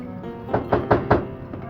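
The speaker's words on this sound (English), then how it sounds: "Just then, they heard another knock at the door." Knuckles rap on a hotel room door in New York City: four quick, evenly spaced knocks, close and fairly loud, followed by a faint fifth tap.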